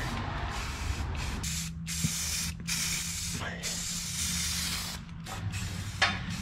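An aerosol can sprays a thick coating onto the floor pan of a 1961 Parkwood Wagon in several long close hissing bursts separated by short pauses, with a low hum underneath.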